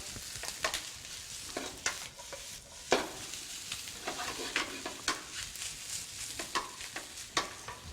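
Yangzhou fried rice being stirred and fried in a hot pan, with a steady sizzle under repeated scraping and tossing strokes from a spatula, close and rhythmic, with no talking.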